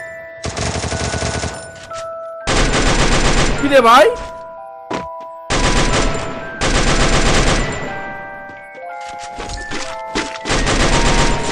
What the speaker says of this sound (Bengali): একটা এনিমিকে দেখে কিন্তু উড়াদুরা ফায়ার করা শুরু করে